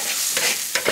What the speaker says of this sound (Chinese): 锅里放一点油， 再把火腿肠炒香